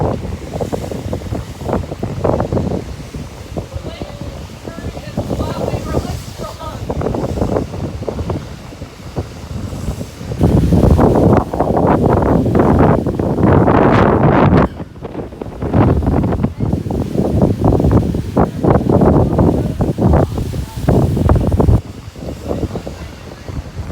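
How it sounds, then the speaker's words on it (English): Strong wind roars across a microphone beside rough ocean surf in stormy, rainy weather, with waves crashing in repeated loud surges that build and swell over a steady, heavy rush of noise. "It's really strong, and a lot of wind."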